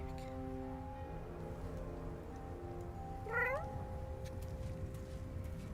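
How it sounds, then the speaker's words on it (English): A cat in the video game Baldur's Gate 3 gives a single clear, rising meow midway through, heard over a steady low ambient game hum with faint tonal background music. "I hear a kitty."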